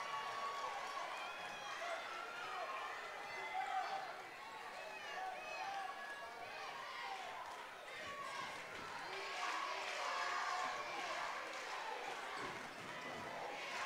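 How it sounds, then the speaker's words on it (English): A loud crowd fills a high school basketball gym, a dense constant roar of voices and shouting with sneaker squeaks, while an announcer talks over it. "This crowd's loud, ladies and gentlemen."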